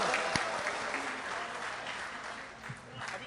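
A crowd applauds at an all-India mushaira poetry gathering, a dense, steady wash of clapping with a few sharper individual claps, heard at moderate distance without speech.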